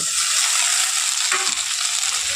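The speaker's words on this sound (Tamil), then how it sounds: "அது வரை இதை நல்லா வதக்கி கொடுத்துக்கலாம்" Tomatoes and onions sautéing in a pan for a Tamil masala egg roast, giving a steady, close broadband sizzle throughout with a brief stirring scrape partway, no voices.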